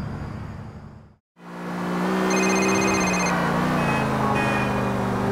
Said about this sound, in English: I was in the shower and I heard the phone ringing